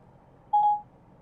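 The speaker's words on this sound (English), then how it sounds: "If you want to make a phone call, call Barry." A Ford Sync 3 system in a 2017 Ford sounds one short, clear dialing tone over quiet background hiss.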